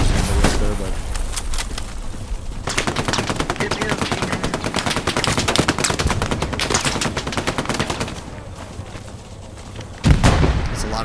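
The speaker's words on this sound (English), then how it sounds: "there's a lot of grenades going that guy's way" Grenades burst amid heavy machine-gun and rifle fire in the World War II shooter Hell Let Loose, with a sustained rattle of shots and a deeper blast near the end.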